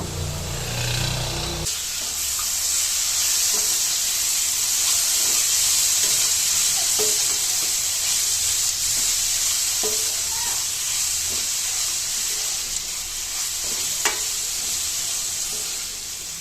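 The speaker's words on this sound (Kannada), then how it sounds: "ಈಗ ತುರಿದಿಟ್ಕೊಂಡಿರೋ ನೆಲ್ಲಿಕಾಯಿನ ಇದಕ್ಕೆ ಹಾಕ್ಕೊಂಡು ಚೆನ್ನಾಗಿ ಫ್ರೈ ಮಾಡ್ಕೋಬೇಕು" Grated amla (Indian gooseberry) frying in a pan for amla rice, a steady loud sizzle throughout with scattered stirring scrapes and clicks, no voices.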